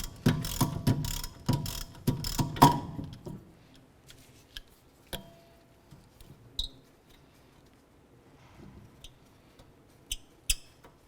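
A ratchet works on a wheel hub bolt of a 2008-2012 Honda Accord during rear hub and bearing replacement: rapid loud clicking strokes for the first few seconds, then scattered faint metallic ticks and clinks.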